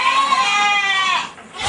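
A single goat on a goat farm, first kept as seventeen goats in a simple shed, gives one long, loud, quavering bleat up close that trails off after about a second.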